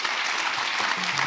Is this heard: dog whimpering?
no